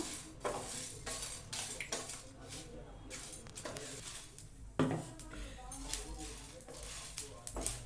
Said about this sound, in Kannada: ಹಾಗೇ ಡ್ರೈ ಆಗೇ ಹುರ್ಕೋತಾ ಇದ್ದೀನಿ.